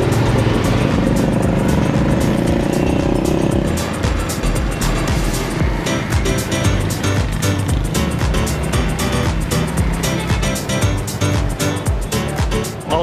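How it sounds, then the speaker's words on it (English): A motorbike pulling an attached cart rides down a busy Lahore street, its engine a loud, continuous drone mixed with dense traffic and street noise throughout. "it's a motorbike connected to a cart. So we're gonna jump in and go down the road"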